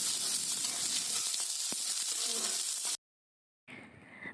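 Onions sizzle while frying in oil for a duck curry, a bright continuous hiss for about three seconds that cuts off abruptly, then a brief quieter return.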